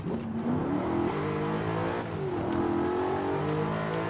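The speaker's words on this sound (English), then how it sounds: "I just can't tell if that's the induction noise from the intake or if that's the supercharger whine" Supercharged car engine in Forza Horizon 5 revving steadily, a sustained rising supercharger or intake whine layered over the motor's drone, loud and continuous.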